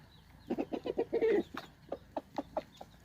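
A Faverolles rooster clucks and calls in a rapid series of short bursts, close by and fairly quiet, with a longer cackling note in the middle.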